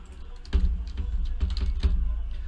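Typing on a computer keyboard, a quick run of close, crisp key clicks with a slightly uneven rhythm over a low room hum.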